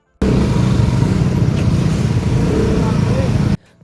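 Heavy road traffic on a mountain highway in Himachal Pradesh toward Banjar, heard as loud, dense, close engine and road roar with rumble, cutting off abruptly after about three and a half seconds.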